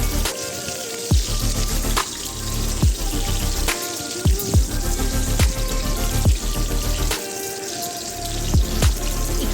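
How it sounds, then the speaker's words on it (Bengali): Diced potatoes frying lightly in hot oil over a medium flame for a fish curry with cauliflower, giving a steady close sizzle with crackling pops and repeated stirring or turning sounds, with no talk. "এখানে আমি আলুগুলিকে এপিট ওপিট করে হালকাভাবে ভেজে নিলাম।"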